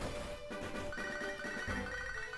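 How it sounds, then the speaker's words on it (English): A phone rings in the Pokémon HeartGold video game, a sustained electronic ringtone with stepped tones shifting pitch over a busy game-music background. "My phone is calling."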